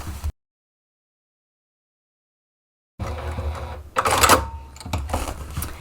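A sewing machine stitches a fabric gift basket seam: after a short blip and a stretch of total silence, a close mechanical whirring and clattering starts up and runs in uneven surges to the end.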